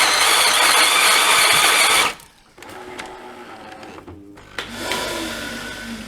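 A Jura coffee machine grinds beans: a loud, steady mechanical grinding whirs for about two seconds, then cuts out, leaving quieter rattling and a lower motor hum that rises again near the end.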